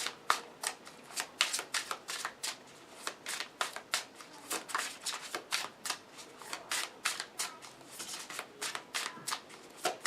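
Tarot cards shuffled close up in a steady run of crisp riffling bursts and soft slaps, repeating rhythmically with no talking.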